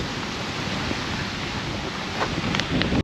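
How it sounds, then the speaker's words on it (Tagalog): Strong storm wind roars steadily across the microphone at the Calatagan coast, with large crashing surf blended into a dense, continuous rush that swells slightly near the end. "Oh, grabe na sa hangin."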